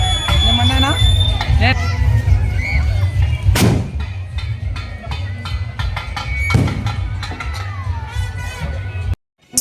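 Firecrackers go off during a goddess procession in a crowded street, sharp loud bangs at intervals over a steady hubbub of voices and crowd noise.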